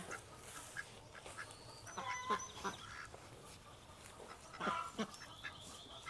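Ducks quack and honk in short bursts at a moderate distance, a few scattered calls over quiet outdoor ambience.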